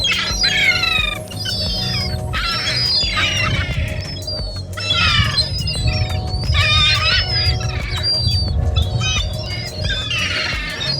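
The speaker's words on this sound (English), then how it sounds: "we are gonna feed the seagulls" Seagulls squawk loudly and repeatedly at close range while being fed bread in Alvor, Algarve, Portugal, harsh overlapping cries in bursts over a steady low rumble like an engine.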